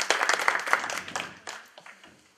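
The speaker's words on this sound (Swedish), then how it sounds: "Ta en applåd då" A small audience at a talk on upper-secondary teachers' daily life gives a short round of clapping that starts brisk and thins out, fading to a few last claps.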